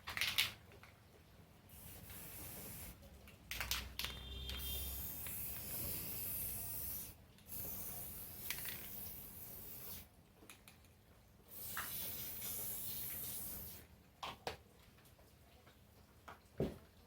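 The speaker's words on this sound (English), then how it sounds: "Take some of this brown spray paint," Rust-Oleum brown spray paint hisses from the can in several long and short bursts with brief pauses and a few faint clicks between them, close up and without talk.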